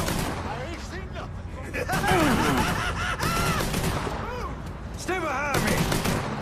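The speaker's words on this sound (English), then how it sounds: "He shot me!" Gunfire in the crime shooter game Mafia 3, rapid bursts of shots crackling through an intense firefight, with in-game characters shouting over the fusillade.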